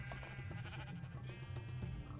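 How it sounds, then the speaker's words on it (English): Sheep in a farming video game bleat quietly in short wavering calls, repeated in quick succession over a soft background. "So, as you see, I do have some sheep here"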